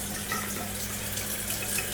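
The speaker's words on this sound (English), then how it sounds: "This is the water that we are using to fill the cup" Reverse osmosis filtered water from a K5 system runs steadily into a cup, a soft, even hiss and trickle heard close and quiet with no talking.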